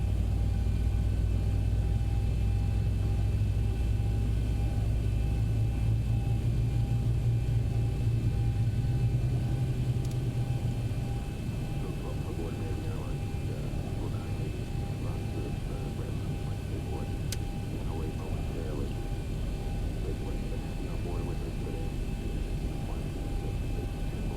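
Twin jet engines of a United 737-800 spooling up one after the other in a flight simulator, a steady low rumble that swells and holds, with talking over it.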